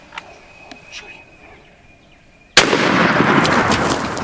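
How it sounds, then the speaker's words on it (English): A single loud shotgun blast fired at a turkey during a Missouri hunt, cracking suddenly after quiet outdoor ambience and leaving a long rolling echo through the woods. "Shoot the one on the left. Shoot him."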